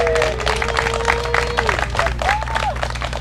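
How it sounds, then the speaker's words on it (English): An audience claps at an outdoor fire station groundbreaking ceremony, a steady crowd patter lasting a few seconds with a few voices calling out over the clapping. "let's give him a real round of applause"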